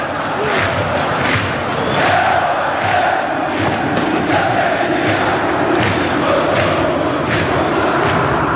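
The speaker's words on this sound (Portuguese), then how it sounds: "Canta a torcida rubro-negra." Flamengo supporters sing together in a packed stadium during a 2006 Copa do Brasil final against Vasco, a loud, dense chant that swells in repeating waves, with a commentator's voice briefly over it.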